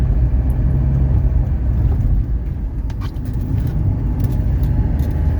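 A 1979 Mercedes 300SD heard from inside while driven fast through turns, with a deep steady engine and road rumble and a few faint rattles and clicks over the drone.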